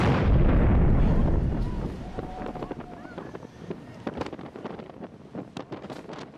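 Loud, sustained blast from an electrical substation explosion as salt water from Hurricane Sandy's flooding hits power cables, booming at first and then decaying into rumbling, crackling bursts with wind noise.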